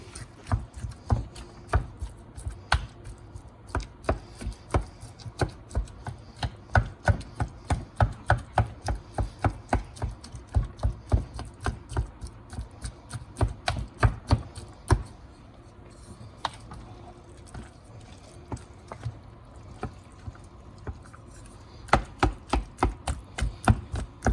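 A spoon mashing potatoes mixed with cinnamon sugar in a bowl, giving quick, irregular knocks and taps in bursts, with a quieter stretch midway before the rapid tapping resumes.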